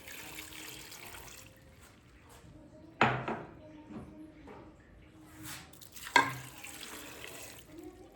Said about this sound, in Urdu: دو گلاس پانی مکس کر دیں اس میں